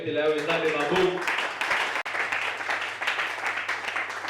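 A church congregation breaks into applause and cheering for the Lord, a dense, sustained wash of clapping that starts with a sung or shouted phrase, and a voice speaks over it.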